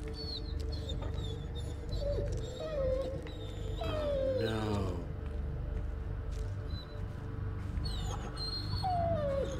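A dog in the horror game Blair Witch whimpers and whines in repeated high, wavering cries over a steady, low ambient drone, with one longer, sliding howl-like whine in the middle.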